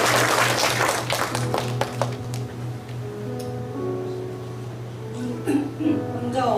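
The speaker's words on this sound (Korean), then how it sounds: "박수하겠습니다." Applause in a church ceremony. A burst of clapping opens loud and dense, then thins into scattered claps under a low, steady hum, with faint murmurs and a few late taps.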